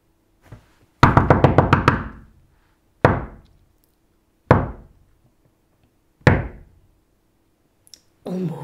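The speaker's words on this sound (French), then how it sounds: "et je frappe à une première porte" Knuckles rap on a door in bursts: a rapid run of about six knocks, then three single knocks spaced apart, crisp and close in an otherwise quiet room.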